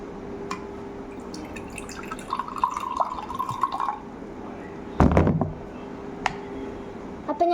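Water is poured into a glass with a short trickle and a few drips, then a steadier filling pour. A louder splash follows, and scattered drips and clinks are heard close by.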